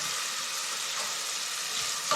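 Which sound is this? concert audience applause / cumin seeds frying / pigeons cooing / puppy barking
cumin seeds frying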